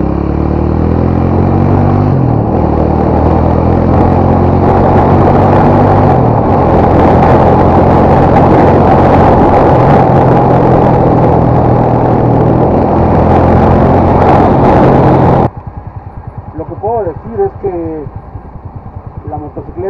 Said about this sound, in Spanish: Vamos a acelerar a fondo, amigos, para ver cómo se comporta.